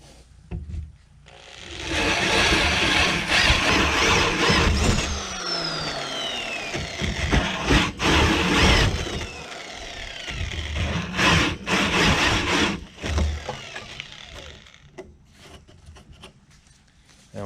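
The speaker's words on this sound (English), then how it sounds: "got to cut one more tenon and one more hole." Power tool cutting a tenon and a hole in walnut, loud close sawing and grinding in long sustained bursts with brief pauses between passes.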